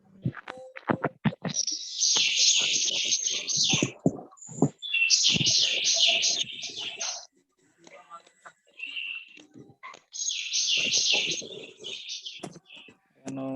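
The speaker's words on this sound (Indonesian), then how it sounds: "Anu gaduh burung ya, tarik suaranya." A bird sings loudly and close by in bursts of shrill, fast trilling phrases separated by short pauses, with softer chirps and clicks in between.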